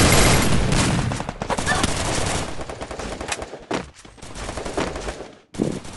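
Sustained automatic gunfire in a shooter video game, dense loud bursts of shots with brief gaps and a sharp restart near the end.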